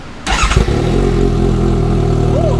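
A 2018 Suzuki GSX-S750 motorcycle with a shorty exhaust cranks and fires up, settling into a loud, throaty, rapid idle that rumbles steadily close by.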